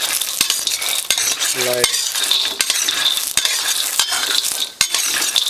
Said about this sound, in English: And then stir it very quickly.